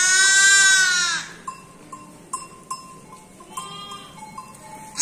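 A sheep lets out one loud, long bleat up close, then lambs answer with shorter, softer bleats and brief calls scattered through the rest, out in a farmyard with no talking.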